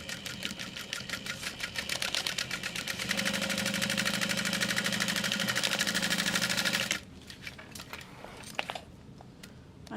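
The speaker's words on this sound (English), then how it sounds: "And then we're top stitching underneath that seam." A sewing machine topstitches beneath a lining seam on a small restoration-style handbag, running in a fast, steady mechanical chatter for about seven seconds before stopping abruptly, followed by a few faint clicks.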